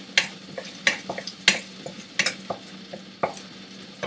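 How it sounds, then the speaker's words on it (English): Shallot stir-fried in a wok at home, a steady sizzle broken by repeated sharp scrapes and clinks of a spatula against the metal, close and alone with no talk. "And add a little bit of shallot and stir fry a little bit."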